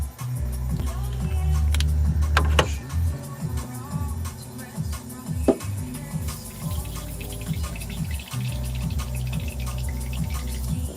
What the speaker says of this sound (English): I'm bubbling. I'm backflowing my paint.